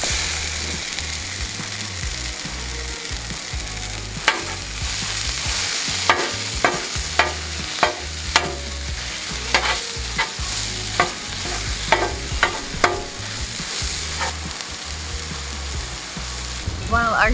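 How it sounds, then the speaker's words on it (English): Sausage fries on a Blackstone griddle in a loud, continuous sizzle, broken by a series of sharp metallic scrapes and taps from a spatula that come in an uneven rhythm. There is no talking. "While our sausage is cooking,"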